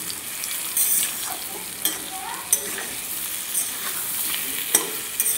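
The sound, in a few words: boiled taro frying with turmeric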